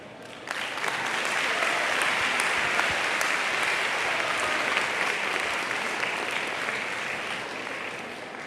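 Sustained applause from a school assembly crowd honoring the senior court at a high school day event, swelling in after a brief pause and holding as a steady, fairly loud roar of clapping.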